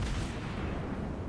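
Ship guns fire in World of Warships Blitz: a dense, loud rumbling artillery blast filling the whole moment, with no talk over it.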